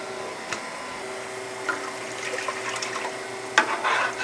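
Water runs steadily into a pot for a fruit gelatin, a continuous close rushing pour over a faint hum, with a few small clinks and a louder splash near the end.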